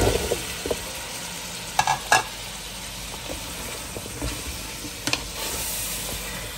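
Squash (kalabasa) sautéing in a pan, a low frying sizzle under intermittent sharp stirring scrapes and clinks of a utensil, no talk.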